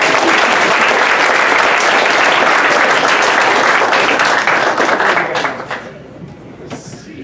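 Loud, close applause from the audience at a high school comedy hypnosis show, dense clapping that holds steady for over five seconds, then quickly fades to scattered claps.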